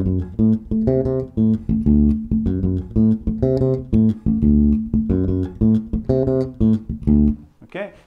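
Funky bass line on bass guitar working back down to the fifth, a steady stream of punchy, rhythmic plucked notes played close and loud, ending with a short noise.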